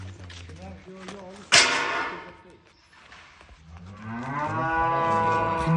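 A newly calved cow moos loudly and at length nearby on a farm, with a sharp thump partway through. Further lowing follows, and someone talks over it.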